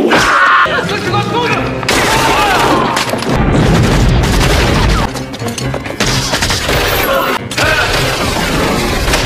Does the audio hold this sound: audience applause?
no